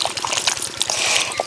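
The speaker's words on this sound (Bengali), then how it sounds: "এবার দিয়ে দেবো একটু জল" Water poured from a container into a kadai of chicken chachchari cooking in mustard oil and spices, a steady close trickle and splash lasting a moment.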